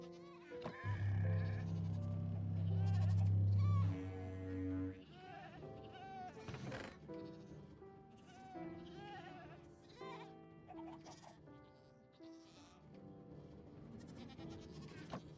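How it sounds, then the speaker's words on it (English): A goat in Minecraft lets out a loud, drawn-out bleating scream near the start, followed by a stretch of busier game sounds and background music. "they're dropped by a screaming goat"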